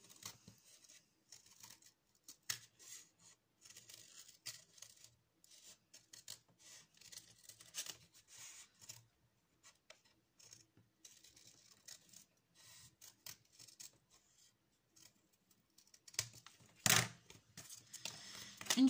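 Scissors snip through a cardboard roll in quiet, irregular cuts and rustles, faint and close, with a louder crunch near the end.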